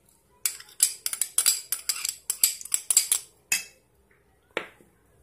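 A metal spoon clinks against a cooking pot while sardine meatballs in tomato sauce are prepared: a quick, close run of sharp taps and scrapes, then a couple of isolated knocks after a brief pause.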